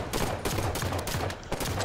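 Gunfire in the shooter video game Halo 5 Guardians: rapid, loud bursts of automatic shots in quick succession, close and continuous across the moment.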